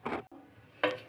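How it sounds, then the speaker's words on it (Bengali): A metal spoon scrapes and clinks against a pan while chicken curry with potatoes and a little ghee is stirred on a switched-off gas stove, two short bursts of scraping separated by a quiet pause. "এইবারে একটু নেড়ে চেড়ে নেব"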